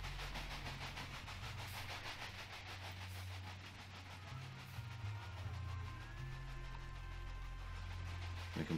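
A train running in the Railway Empire video game, a steady low rumble with rhythmic clatter of wheels on rails, faint and continuous throughout without talk.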